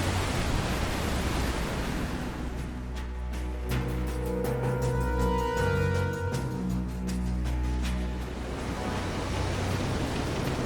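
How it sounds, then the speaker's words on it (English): Ocean waves surge and swell around a pitching boat during a storm in the video game Visions of Mana, a broad continuous wash of surf with musical tones layered over it. "Careful of the swell of the waves."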